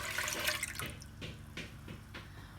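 Milk poured into a pan for rabri kheer, a steady close splashing pour that thins into a few separate drips and splashes.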